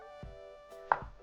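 Potatoes and onion chopped on a board, a few sharp isolated knife strikes spaced apart over a quiet kitchen hum, with a brighter clatter in the middle.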